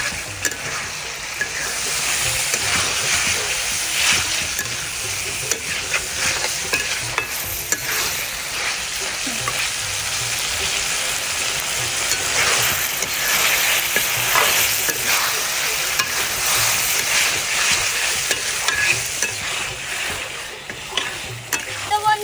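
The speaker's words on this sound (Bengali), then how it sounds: "এবার আমি মাংসটা ভালোভাবে কষিয়ে নিচ্ছি।" Meat, legs, liver and skin sautéed with spices in a pan, crackling loudly and steadily up close, with ongoing scraping and stirring throughout.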